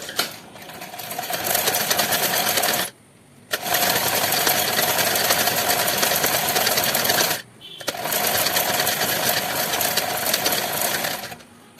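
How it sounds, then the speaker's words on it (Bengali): A sewing machine stitches a blouse in three loud, continuous runs of rapid needle clatter, separated by short pauses. "এবারে আমি চাপ সেলাই দিয়ে নিচ্ছি যাতে ফোলটা সুন্দরভাবে পড়ে"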